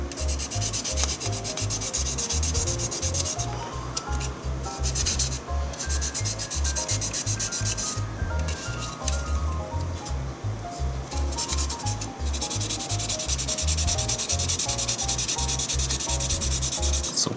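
Sandpaper, 800 grit, rubs back and forth over a 1/24 Aoshima Liberty Walk R35 GT-R model car body, close rhythmic scratchy strokes in an even steady pattern with no talking.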